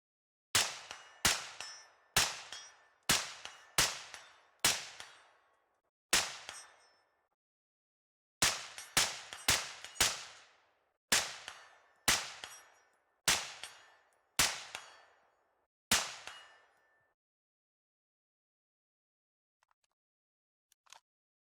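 Rifle shots ring off a steel target in rapid bursts, about sixteen sharp cracks each followed by a bright metallic clang, loud and close, then quiet with a couple of faint taps.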